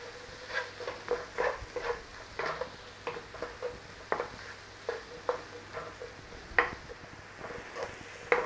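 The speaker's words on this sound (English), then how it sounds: "it will take about 4 to 5 minutes to saute those onions" Onions sauté in a pan with salt and black pepper, soft sizzling broken by repeated scrapes and stirring taps against the pan, moderately close and steady throughout.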